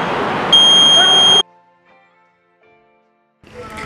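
A red-sandalwood anti-smuggling alarm buzzer goes off loud and close, a steady piercing electronic tone lasting about a second over broadband noise, then cuts to near silence.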